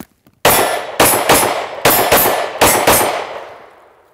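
A handgun is fired after a seated draw from a Wright Leather Works Banshee holster, about eight sharp, loud shots in quick uneven succession with ringing, metallic decays, the last fading out, no talk.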